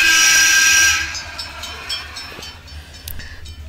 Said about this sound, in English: The whistle noise of the cars was brand new in Germany.